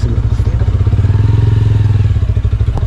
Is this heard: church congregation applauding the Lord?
no